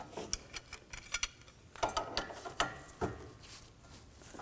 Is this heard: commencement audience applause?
no